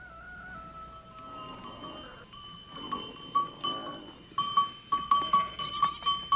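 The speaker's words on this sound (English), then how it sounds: "yaks and goats are sent to stony pastures" Goats in a Sherpa village's stony Himalayan pasture bleat close by, a few wavering calls at first, then a quick run of bleats over light bell-like clinks.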